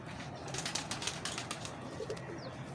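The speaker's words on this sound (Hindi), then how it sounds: "ये मेरे पास खालिस कबूतर है।" A pigeon coos softly in a quiet backyard loft, low throaty calls rising and falling at a distance, with faint rustles and brief wing flutters around it.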